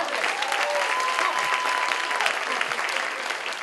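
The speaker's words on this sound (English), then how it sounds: "Clap for love. Clap for love." A comedy-show audience claps steadily and densely throughout, a thick continuous wash of applause with a faint whistle-like tone riding over it near the start.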